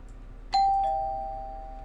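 A doorbell chimes once, loud and near, its ringing tone sustaining and slowly fading in a quiet room.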